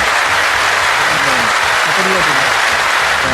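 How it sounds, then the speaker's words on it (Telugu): A group of people claps together during a fun fitness challenge session, producing a dense, loud, continuous patter of applause with voices talking over it. "క్లాప్స్ కూడా వేస్తాం."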